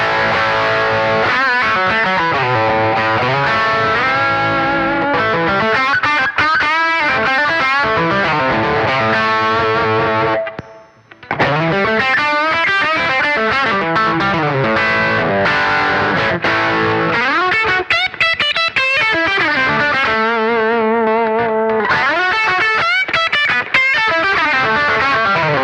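Electric guitar played through a Power Burst boost pedal set to its middle setting, with distorted chords and riffs that push the midrange forward, playing loud and continuous apart from one short pause.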